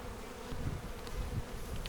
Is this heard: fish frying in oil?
no